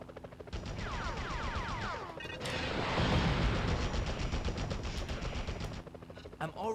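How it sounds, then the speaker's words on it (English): Rapid automatic gunfire in the Spider-Man video game sprays at windows, a loud sustained burst of rattling shots with smashing glass and clatter, preceded by game sound effects and followed by a few trailing shots. "start shooting at the windows"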